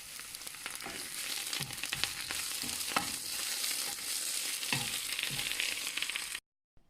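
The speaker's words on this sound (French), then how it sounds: "Maintenant, je fais cuire le tout jusqu'à ce que les légumes soient bien réduits." Spinach and onions cook in a pan, giving a steady sizzle with scattered stirring scrapes and pops throughout, close and moderately loud, then cutting off abruptly at the end; no talking.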